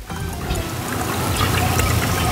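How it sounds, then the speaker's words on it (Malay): Leftover rice-washing water is poured into a plastic spray bottle, making a continuous trickling splash close to the listener that lasts a couple of seconds with no talk over it. "air lebihan basuh beras tu masukkan semula dalam botol ni"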